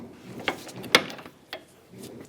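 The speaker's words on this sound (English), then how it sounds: "Torque this nut to 70 foot-pounds." Ratcheting clicks from a torque wrench on a sway bar link nut of a 2003-2007 Infiniti G35 front suspension, with a few sharp metallic ticks at uneven spacing and quiet mechanical handling between them.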